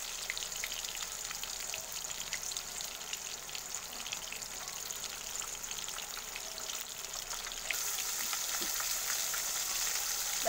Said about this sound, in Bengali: আর এক পিঠ ভাজা হচ্ছে, একটু কড়া করেই ভাজবো।